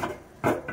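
A cooking pot is set down onto a tawa on a stovetop, giving a short, dull clunk followed by a smaller knock, quiet and close.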